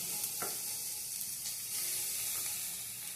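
Deboned fish pieces go into a pan of hot oil, raising a soft, even sizzle and hiss with a few faint scrapes of stirring, fairly quiet throughout.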